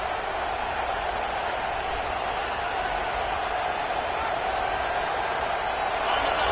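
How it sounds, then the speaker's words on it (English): Home crowd roaring steadily at an Eagles football game during a 3rd down, a dense, continuous wash of stadium noise that stays loud and even throughout. "Here comes this home crowd as the defense tries to get off the field on 3rd down."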